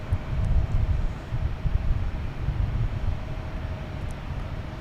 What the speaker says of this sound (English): There's JetBlue coming in from San Francisco, A321.